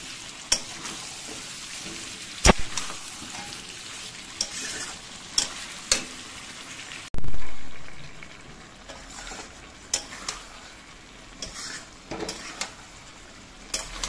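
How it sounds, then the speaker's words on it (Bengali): Potatoes, green peas and spice paste sauté in a pan with steady sizzling and repeated scraping stirs, sharp utensil clacks standing out, and a loud burst of frying midway. "এবার আলু, কড়াইশুঁটি, মশলা একসঙ্গে কষাবো।"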